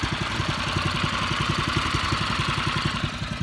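A mini bike engine idling close by in a steady, rapid chugging pulse, loud and unbroken from start to end with no talk over it.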